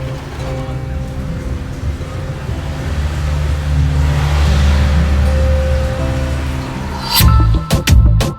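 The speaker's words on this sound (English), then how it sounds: "And it began to pour heavily." Heavy monsoon rain drums on a moving car on an Eastern Ghats road, a dense steady wash over low engine and road rumble that swells in the middle, ending with a few sharp knocks and bumps.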